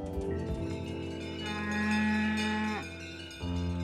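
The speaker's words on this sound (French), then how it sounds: "Patrick Mouliade conduit son troupeau de vaches." A herd of Aubrac cattle moos along a misty country road in the Aubrac, long deep bellows rising and overlapping, with a faint bell in the background and no speech.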